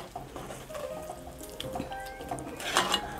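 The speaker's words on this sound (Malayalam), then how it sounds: "ഇനി നമുക്കിതിനകത്തേക്ക് സാദാ പച്ചവെള്ളം ചേർക്കാം." Plain water is poured into sizzling masala paste in a pan for Kerala-style tuna curry, a close, steady trickle and splash with faint sizzling.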